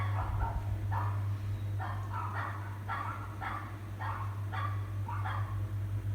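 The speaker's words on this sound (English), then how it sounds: "the dogs outside are barking like no tomorrow" Several dogs barking outdoors at a distance, a rhythmic series of sharp barks repeating about once a second, moderately faint over a steady low electrical hum.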